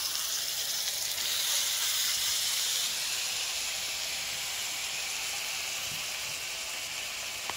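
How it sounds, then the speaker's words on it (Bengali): Magur fish with gourd leaves steaming on a low flame, a steady soft hiss that is strongest early on and slowly fades, close by with no voices. "এই মাছটা দেওয়ার পরে এটা একটু হালকা আঁচে করতে হবে, তাহলে মাছটাও সেদ্ধ হয়ে যাবে"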